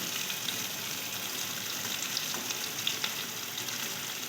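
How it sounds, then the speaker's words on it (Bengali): Katla fish fat frying in a wok with very little oil gives a continuous, even hiss and crackle up close, with faint pops and no talk. "লাল লাল করে সুন্দর করে ভেজে নেব"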